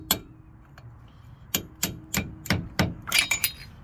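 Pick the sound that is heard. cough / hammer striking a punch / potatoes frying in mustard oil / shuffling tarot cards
hammer striking a punch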